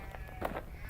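A sheep's bleat used as a radio-play sound effect rises once in the middle, a short wavering cry near at hand over a low steady background hum, with a fainter call just before it.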